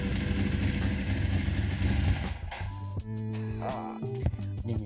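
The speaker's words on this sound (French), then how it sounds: "il a démarré sa moto après 2-3 ans" A Ducati motorcycle with a dry clutch, restarted after about three years standing, runs steadily with a clattery mechanical rumble, close and fairly loud, the tone shifting partway through as the engine settles.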